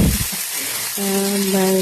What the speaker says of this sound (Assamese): এতিয়া মই পনীৰখিনিৰ কাৰণে ইয়াত একেবাৰে তেলতে ভাজি দিছোঁ